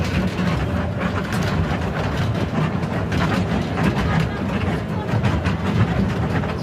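Continuous rumble and rattle of a train on the Lumbini to Delhi route, a steady heavy engine drone with scattered clanks, close by.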